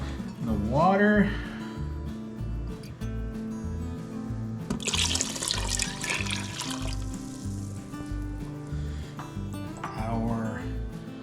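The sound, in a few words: water poured into crock pot with beans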